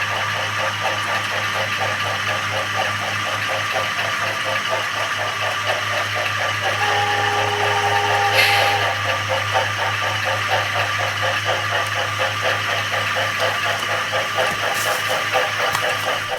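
An IHC 4-6-2 steam locomotive model with DCC sound climbs a tight, twisty mountain grade, giving a steady, continuous rhythmic chuffing with mechanical hum over 16 seconds, and a brief whistle-like tone about halfway through.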